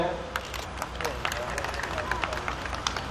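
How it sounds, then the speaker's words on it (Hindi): Audience clapping at a 2012 poets' gathering in Badaun, a steady wash of many hands with sharp individual claps and crowd murmur throughout. "जोरदार ताली फारूक सरल के लिए।"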